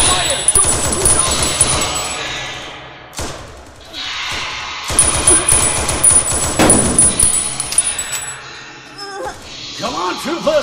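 Gunfire in a science-fiction battle scene from Starship Troopers: Deadlock, with rapid automatic bursts, heavy thuds and loud impacts that break off briefly and resume, mixed with shouting voices.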